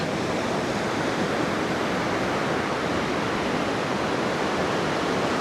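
Sea waves breaking around Cromer pier on the Norfolk coast, a dense, steady roar of surf rushing without clear pauses, loud and close, with no voices.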